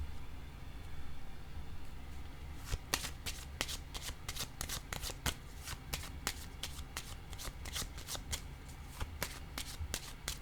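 Tarot cards being shuffled by hand close up, a quiet riffle of crisp flicks that starts a few seconds in and continues in a steady rhythm over faint background hum.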